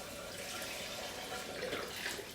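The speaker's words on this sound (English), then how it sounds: "I'm going to fill it up one with water." Tap water pours into an empty chicken stock carton, being measured out for split pea soup, a steady close splashing flow with a slightly rising tone as it fills, with no talking.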